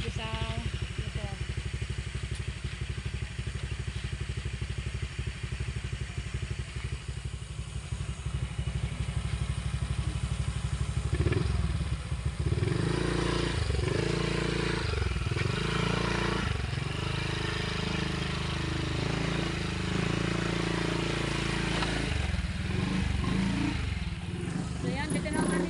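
A motorcycle engine runs close by near a crowded beach, idling and revving with a rough mechanical clatter while people talk over it.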